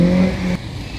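A large touring or cruiser motorcycle passes on Île Sainte-Hélène in Montreal, its loud, close engine drone holding steady and then dropping away as it goes by.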